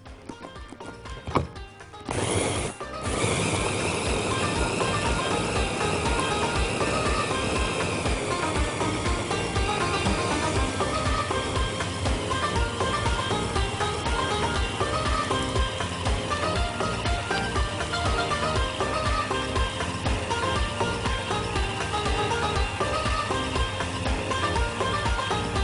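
A food processor minces a chicken burger mixture with breadcrumbs and salt, a loud, close motor roar with a fast, steady thumping pulse that starts after a short sputter and carries on evenly without talk.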